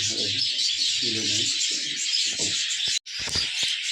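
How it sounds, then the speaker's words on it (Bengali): Pet birds, one sitting listless, give a few clear chirps and low cooing calls close by, followed by a brief rustle near the end. "এই পাখিটা ঝিম ধরে বসে আছে"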